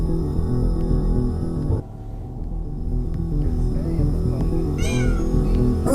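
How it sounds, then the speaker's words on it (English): A cat meows in the SwordyQuest game over a loud, steady music bed, the cry rising briefly near the end against the droning background. "The cat again."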